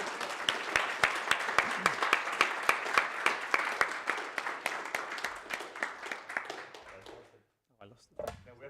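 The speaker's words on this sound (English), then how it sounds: "can we just do a round of applause for the student volunteers and AV volunteers?" A modest room of people claps for student and AV volunteers at a POPL'24 PROPL workshop session, with individual claps clearly distinct; it fades after about seven seconds and a brief voice or rustle follows.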